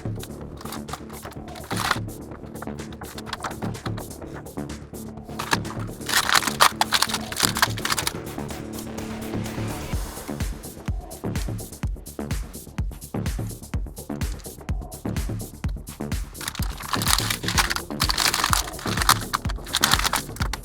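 Plastic packaging of a ThunderCats Tygra action figure from a Masters of the Universe crossover line being opened by hand, with repeated crackling, crinkling and tearing sounds close by, growing busier toward the end.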